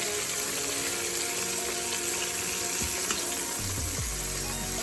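Browned beef short ribs sizzling in an Instant Pot on sauté, a steady dense frying hiss throughout with faint low clinks near the end, close, no talking.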